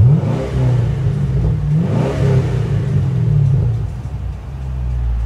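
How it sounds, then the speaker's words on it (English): A 2012 Chevrolet Camaro SS revved up near the exhaust, deep throaty rumble climbing in two pulls and falling back to a low idle burble, loud and close with no talk. "I'm basically just gonna rev the car up for you"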